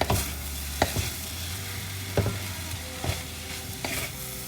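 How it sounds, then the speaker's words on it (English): Vegan fried rice with sauce being stir-fried in a wok, a low steady sizzle under a hum, punctuated by a few sharp spatula scrapes and clanks spaced about a second apart; close, no voices. "Fry it nicely till the wetness goes away and it's a little bit dry."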